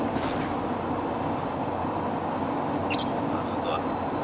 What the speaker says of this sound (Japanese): 新幹線じゃないけど電車見えたな